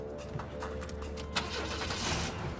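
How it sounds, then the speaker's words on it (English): A car engine cranks and starts up nearby, with a faint jangle of keys, then settles into a rough idle. "the neighbor starts his engine and races after the white pickup"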